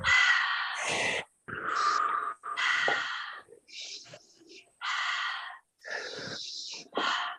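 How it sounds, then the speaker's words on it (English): A group takes deep, intentional belly breaths, each one a long, loud, airy inhale or exhale lasting about a second, separated by short pauses and repeated in a steady rhythm up close. "every call is going to start with this very relaxing 10 deep intentional breaths"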